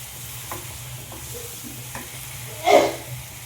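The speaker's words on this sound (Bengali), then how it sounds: "দিয়ে আবারও আমি মশলার সাথে টমেটো পেস্টটা ভালো করে আমি কষিয়ে নেব।" Tomato paste fries with spices in a pan for rui fish kalia, a low steady sizzle punctuated by a few soft stirring scrapes and one louder clatter near the end.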